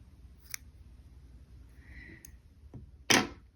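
Scissors snip through crochet yarn, a quiet short snip near the start and a sharper, louder cut near the end, otherwise a faint hushed room.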